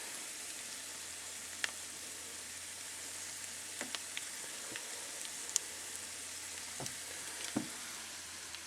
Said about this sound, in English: Onions are in, sausages are just about